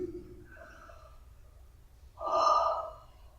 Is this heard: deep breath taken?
yes